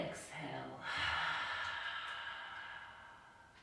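A long, audible exhale from an instructor cueing breathing during a live exercise class, a breathy rush of air that swells and slowly fades, with a brief voice just before it.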